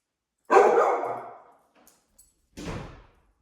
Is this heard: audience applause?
no